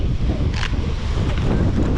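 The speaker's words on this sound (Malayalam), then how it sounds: "ഭയങ്കര കാറ്റാണേ, ഒരു രക്ഷയില്ലാത്ത കാറ്റാ, ഭയങ്കര കാറ്റാ." Strong monsoon wind gusting hard across the open hills of Vagamon in Kerala, a loud continuous roaring buffet that pounds the microphone for the whole stretch, with no voices.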